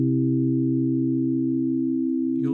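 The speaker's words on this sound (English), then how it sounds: "you'll hear the individual sine waves. There are 4 of them oscillating at varying rates." An additive synthesizer note built from four sine waves, a steady sustained tone with stacked low partials that waver gently at different rates, loud and alone for over two seconds before a brief burst at the end.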